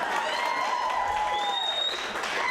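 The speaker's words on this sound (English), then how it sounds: "that deserves an applause" A comedy club audience bursts into applause during a stand-up set, a continuous, even roar of clapping from a packed room with faint cheering mixed through it.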